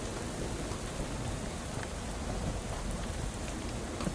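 Steady, dense rainfall in the video game Shadows Over Loathing, a continuous broadband hiss with faint thunder-like rumble underneath, constant and unbroken throughout with no talking.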